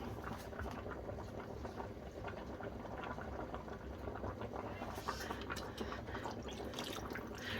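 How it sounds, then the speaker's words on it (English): Sausages simmering in passata in a pot, a steady close bubbling and sputtering with soft liquid pops and patter running throughout, no talk. "I'm now going to add the passata, because the sausages are so huge and they need to cook all the way"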